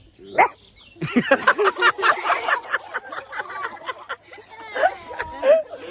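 A voice imitates a dog barking, giving a rapid run of close, loud yapping barks with a few quieter breathy sounds mixed in.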